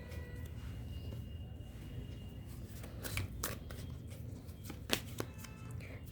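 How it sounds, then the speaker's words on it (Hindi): Tarot cards being shuffled by hand, a few quick riffling bursts and soft card slaps spaced over a quiet background, close and crisp, no talking over them. "मैं ना जरा कार्ड्स को एडजस्ट कर लूँ।"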